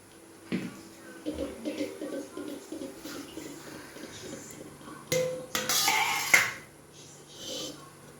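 Cooked biryani is emptied from a home cooking pot with soft metallic scrapes and clinks of the pot and utensils, fairly quiet, mixed with a person talking.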